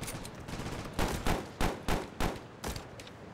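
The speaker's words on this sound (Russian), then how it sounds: "Уходим от выстрелов." Gunfire in the World War Polygon video game: a handful of sharp, separate shots crack out at irregular intervals over a low background, fairly faint overall.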